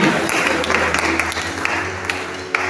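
Steady applause from a church congregation fills the space, a dense wash of clapping with scattered sharper claps and voices mixed in.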